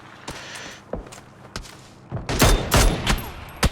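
Gunfire in the battle game PUBG, with a glider involved: scattered single shots early, then a loud dense burst of rapid fire in the second half, sharp cracks ringing close.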